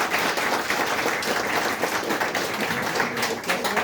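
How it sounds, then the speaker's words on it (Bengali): An audience at a summit gathering in Darjeeling claps loudly and continuously, a thick wash of applause from many hands with faint crowd murmur underneath. "এই তো চলো একটু জোরে হাততালি দিন।"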